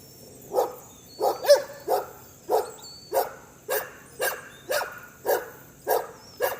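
Two dogs bark in a steady series of about ten sharp, evenly spaced barks, fairly close and loud against a quiet background.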